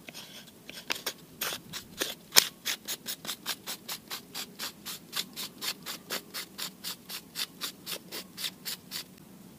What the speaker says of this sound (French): Et ensuite je viens visser mon écrou.